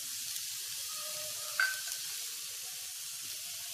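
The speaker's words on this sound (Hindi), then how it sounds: "मैंने प्याज को मीडियम फ्लेम पे फ्राई किया है। हम डाल देंगे इसमें ये बंधा गोभी को" Onion, cabbage and carrot fry over a medium flame in a pan, a broad, even sizzling hiss with one brief metallic clink partway through.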